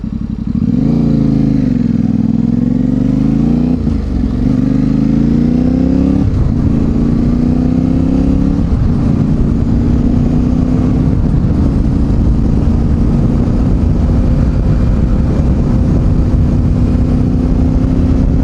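Yamaha Tenere 700 adventure motorcycle being ridden, its engine droning loudly and close throughout, with the pitch climbing and dropping at several gear changes early on before settling into a steady cruise, overlaid by wind rush.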